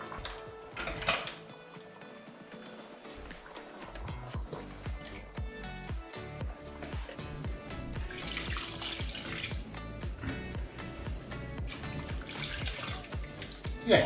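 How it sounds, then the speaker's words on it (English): Water running and splashing into a cooking pot of lamb shanks in tomato sauce, a steady pouring rush with clinks and knocks of cookware throughout. "We're gonna put some water in this, okay?"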